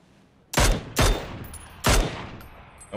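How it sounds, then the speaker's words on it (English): Three heavy mortar blasts in a video game firing on a building, close and loud, each boom spaced about half a second to a second apart with a decaying rumble. "Fucking mortaring the shit out of that building"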